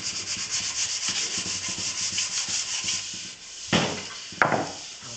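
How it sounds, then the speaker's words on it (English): Painted wood grain is sanded by hand, a rhythmic, close scratchy rubbing with repeated strokes. A couple of sharper knocks come near the end. "Probably give it a wee bit more of a sand, because you want the paint just really to be in the grain"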